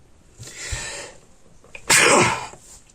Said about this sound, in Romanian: îmi cer scuze, am strănutat.